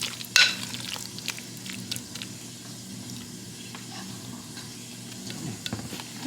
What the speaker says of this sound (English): getting them in some butter and on top of a hot plate or plancha, crisping them up